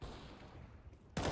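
A burst of gunfire in a Counter-Strike match on the map Train, where an AWP sniper shot misses and a rival takes the kill; a loud, sharp blast erupts at the very end after steady background game noise.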